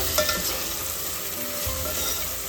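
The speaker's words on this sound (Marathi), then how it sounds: "छान असं मिक्स करून घेऊ आपण ते" Onion, tomato and beet stirred together in a frying pan, a steady hiss of sizzling with scraping spoon strokes throughout, close and fairly loud, no voices.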